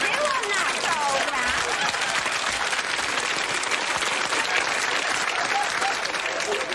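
A studio audience on The Mrs Merton Show breaking into loud, sustained applause, dense, even clapping filling the room without pause, with some voices faintly underneath.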